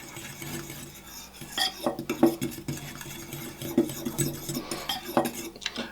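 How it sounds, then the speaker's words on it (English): Flour, baking powder and a pinch of salt being stirred together in a bowl for a raspberry ricotta cake, with close, uneven scraping and tapping of a utensil against the bowl and no talk. "we're just going to fluff this together until the baking powder is completely mixed in with the flour"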